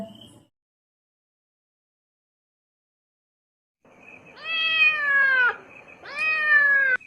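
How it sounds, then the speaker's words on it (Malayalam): A cat meows twice indoors, two clear drawn-out calls close by after a long quiet stretch. "അതാ പൂച്ച തട്ടി തോന്നുന്നുണ്ട്"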